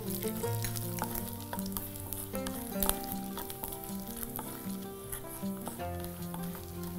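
Almonds sauté in a hot pan, giving a continuous crackling sizzle with occasional stirring scrapes, close and fairly loud, with no voices.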